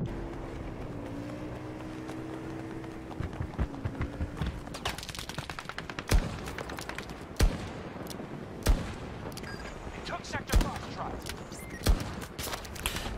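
Battlefield 2042 gunfire crackles through a busy battlefield: rapid bursts build up over a rumbling engine-like background, then several loud, evenly spaced single shots punch through near the end, with occasional talk mixed in.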